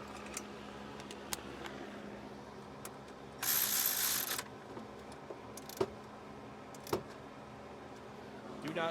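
Ratchet tightening a battery cable connection on a 1993 Toyota T100, quiet clicking with a brief harsh burst of noise in the middle, heard in a quiet garage.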